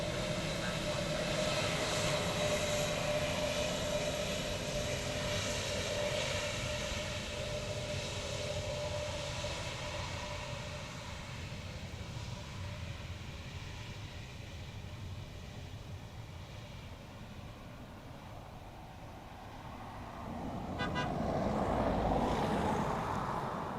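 Airplane landing at Dublin Airport, a long, steady roar of jet engines with a rumbling undertone that swells louder near the end, heard at a distance with faint voices in the background.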